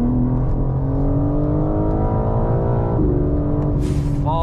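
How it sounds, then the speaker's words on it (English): BMW M5 accelerating hard on a damp road, engine note climbing steadily through a gear with a brief shift dip, loud and close as from inside the car, harmonic drone rising under road rumble. "Fast car."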